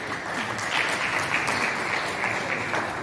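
Church congregation applauding and cheering to acclaim the Lord, a dense, steady crowd clapping that stays loud and continuous throughout.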